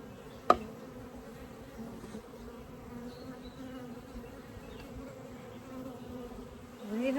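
Honey bees buzz in a Layens swarm trap, a steady low-pitched drone from many insects close by, with a single sharp knock near the start and a louder buzz rising at the end.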